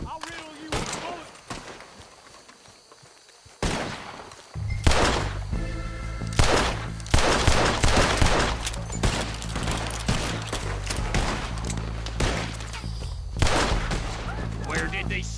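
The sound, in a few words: gunfire in the video game Red Dead Redemption 2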